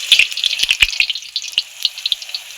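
Puri fries in very hot oil, crackling in loud close bursts of sharp popping spatters that come thick at first and then grow sparser.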